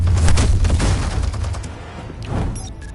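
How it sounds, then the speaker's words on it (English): Minigun in a PS4 video game fires a sustained, loud rattling burst that tails off slightly toward the end, with dense overlapping shots and heavy low rumble. "minigun!"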